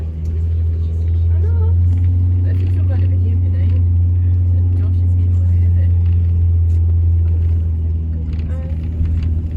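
Steady loud engine drone and low rumble heard from inside a bus driving down the hill at the National Wallace Monument on Abbey Craig, continuous throughout with faint rattles and background voices.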